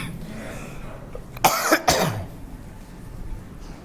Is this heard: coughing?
yes